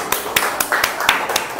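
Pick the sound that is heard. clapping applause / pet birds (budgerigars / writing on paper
clapping applause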